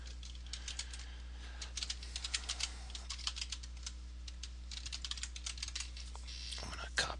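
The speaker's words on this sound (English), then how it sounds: "We're going to type in the web address." Computer keyboard typing as a web address is entered into a browser while troubleshooting a wireless network connection on a PC, steady rapid clicking keystrokes close by with a brief louder clatter near the end.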